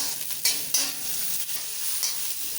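Vegetable fried rice with beans, capsicum, carrot and cabbage stir-fried on high flame, a bright, loud hiss of sizzling with a few quick tossing strokes, no talking.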